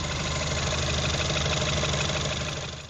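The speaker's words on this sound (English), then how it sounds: "these are tappy engines" A Ford Fiesta ST180 engine idles steadily with a light, regular valve tapping riding over the hum, close and continuous with no voices.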